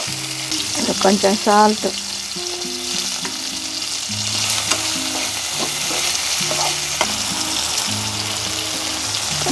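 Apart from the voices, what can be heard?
frying green chillies and tomatoes in a pan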